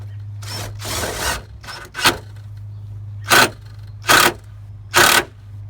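A drill driving a screw during a DIY toilet and mini septic tank build, short whirring bursts close by, one longer run followed by several brief pulses, over a steady low hum.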